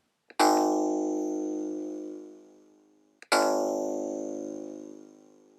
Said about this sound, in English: I used the basic pluck sound you just heard